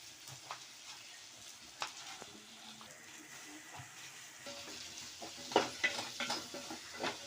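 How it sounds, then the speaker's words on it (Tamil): Chopped onions sauté in butter in a kadai with a low, steady sizzle, followed by a few clinks and stirring scrapes toward the end. "பட்டர் போட்டுட்டு ஆனியனை வந்து கட் பண்ணி போட்டிருக்கோம்"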